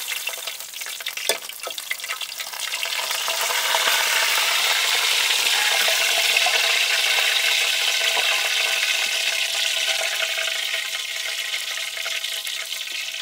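Red tilapia fish deep-fries in hot oil, giving a loud, steady sizzle and crackle that builds and holds for several seconds with no talking.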